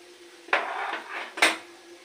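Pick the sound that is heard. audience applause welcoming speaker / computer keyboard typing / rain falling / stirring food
stirring food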